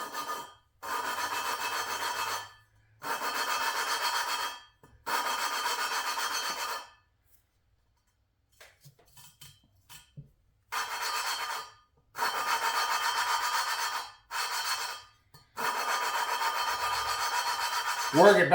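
An engine valve is lapped into a C5 Corvette LS6 cylinder head with grinding compound, making gritty rasping bursts of back-and-forth rubbing, each lasting a second or two, with short pauses and a quieter gap midway, close up.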